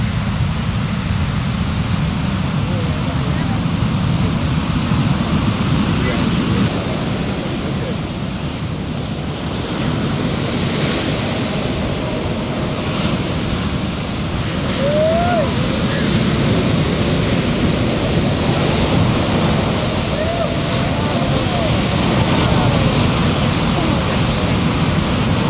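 Waves break at the Wedge in Newport Beach with a continuous, loud roar of surf that swells and eases over about twenty-five seconds, with possible faint voices in the background.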